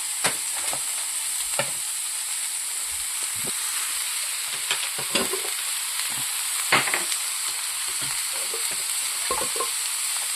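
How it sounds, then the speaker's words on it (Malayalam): Beetroot and dry prawn thoran with grated coconut being stirred in a frying pan: a constant hissing sizzle with intermittent scraping and clinking strokes of a spoon, heard alone without talk. "ഇളക്കി കൊടുക്കാം."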